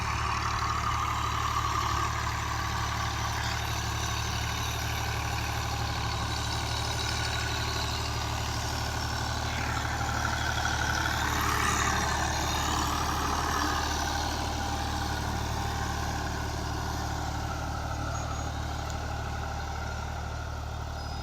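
A Fiat 480 tractor pulls a cotton planter through a field, its diesel engine droning loud and steady throughout with slight swells in load, no voices.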